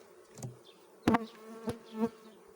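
Honey bees buzzing close by at a hive, a steady insect drone with a few sharp louder bumps and taps, no voices.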